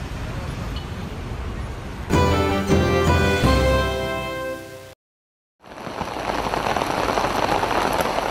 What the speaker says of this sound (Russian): Проливные дожди вызвали хаос в турецком городе Бодрум.